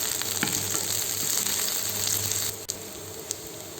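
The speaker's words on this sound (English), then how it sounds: "Saute it very well. Now add roughly cut chilies." Roughly cut chilies sauteing in a pan for Vietnamese ginger chicken: a steady, close sizzle of frying with occasional stirring clicks and scrapes, no talk over it.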